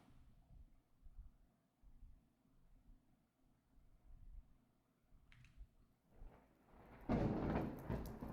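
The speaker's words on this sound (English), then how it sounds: "Raynor flinches as lightning strikes over the horizon" A thunderstorm as a story sound effect: a low, distant rumble with steady rain builds to a loud thunder crack near the end.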